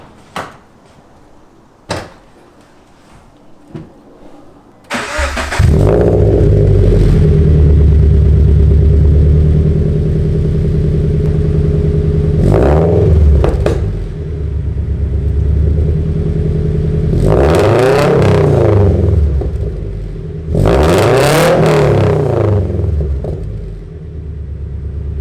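A car with a Tomei front pipe and no resonators fires up after a few faint clicks, then idles with a deep, loud rumble broken by several sharp revs that climb and fall back.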